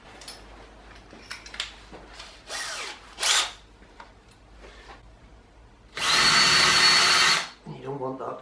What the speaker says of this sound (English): put a bigger drill bit in for countersinking